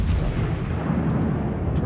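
Heavy naval guns in a warship video game let loose, a deep, booming salvo rolling into a continuous low rumble that fills nearly two seconds.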